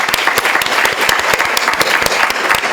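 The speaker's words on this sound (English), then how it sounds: "So a round of applause." Staff at an all-staff meeting give a round of applause, with many hands clapping in a steady, moderately loud burst in an indoor room.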